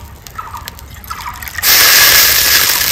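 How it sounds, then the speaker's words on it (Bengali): Water poured from a measuring bowl onto sugar in a pot to make syrup for sweet potato pantua, with a few faint drips before a steady, close splashing pour takes over and continues. "এই বাটি মেপে আমি এক বাটি জল দিচ্ছি"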